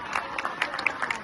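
A crowd claps briefly for Chiara at the Antica Fiera di San Gregorio, soft scattered hand claps heard from a distance over a low background murmur.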